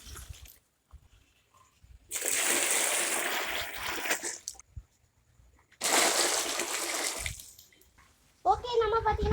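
Water pours and splashes into a large fish tank in two long bursts separated by pauses, with a voice speaking briefly at the end.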